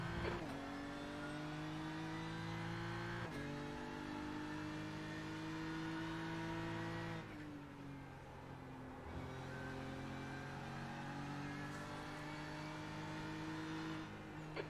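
Several BMW M4 GT3 race cars in iRacing at Fuji, with a steady high engine drone as revs climb and hold, then drop at shifts, and a brief lift partway through before the engines build again.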